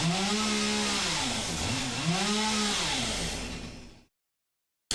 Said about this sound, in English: I'm hoping if I have a sound sample, I can actually delete the chainsaw sound in the recordings